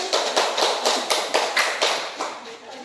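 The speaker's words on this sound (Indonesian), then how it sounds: "Oke, tepuk tangan untuk Mbak Nurin." A classroom claps for a student in a steady, even rhythm of about ten sharp, close beats, fading slightly toward the end.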